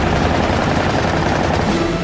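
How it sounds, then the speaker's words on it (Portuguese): Rapid cannon fire from a Zero fighter plane's 20 mm cannon in an aerial dogfight, a dense, loud, continuous rattle of shots running through the whole stretch with no talk. "O Zero abre fogo com seu canhão de 20 milímetros."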